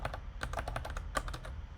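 Fingers clatter quickly across a computer keyboard during a coding session, a close, steady run of key clicks with no talking.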